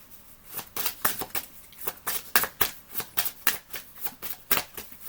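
Tarot cards being shuffled close up in a quiet room, a quick series of crisp riffling bursts repeating in an even rhythm for several seconds.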